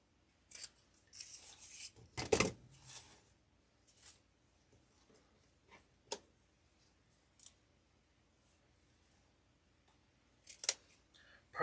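Scissors trimming ribbon tails on a floral grapevine wreath: several crisp, close snips scattered across a quiet room, with light rustling of ribbon between cuts.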